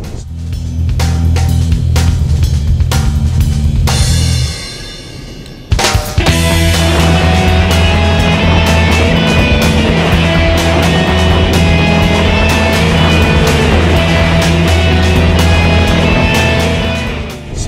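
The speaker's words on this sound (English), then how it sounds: "So just powering the vehicle through the turn." A 2013 Ford Escape AWD powers through a cone-lined turn on a winter test course, its engine a loud, steady drone with rising revs, broken by a brief dip before the motor surges back and holds strong.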